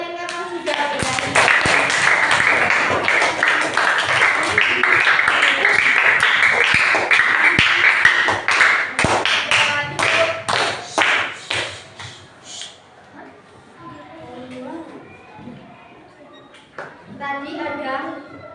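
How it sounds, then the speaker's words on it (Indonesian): Children in a primary school classroom clap their hands together, a dense burst of rapid claps that thins into scattered individual claps, with children's voices and chatter continuing afterward. "Beri tepuk tangan untuk kalian karena sudah berani."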